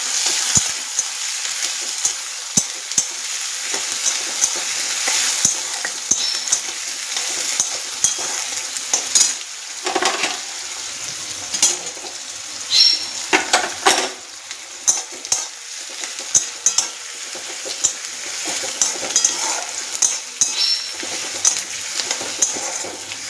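Onions sizzle steadily in hot oil in a pan with spices, frying for a Bengali jackfruit and mutton mince dish, with occasional scrapes and clinks as they are stirred; close and continuous, no talk.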